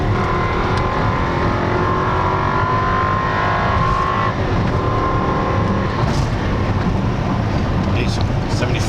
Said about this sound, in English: Try getting it down into second again here on the straightaway.